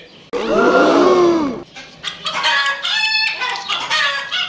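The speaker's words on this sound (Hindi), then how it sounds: "चूजे को पकड़ लिया है।" Chickens cluck and squawk loudly up close in a farmyard as a pit bull attacks their chicks, one long strained cry followed by a run of agitated overlapping clucks.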